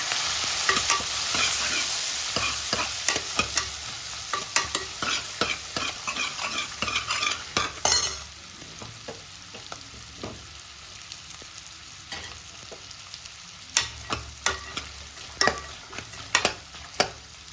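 Ingredients for ghee rice sauté in a hot pan, a steady sizzle broken by repeated sharp scrapes and clinks of a spoon stirring, close and alone without talk.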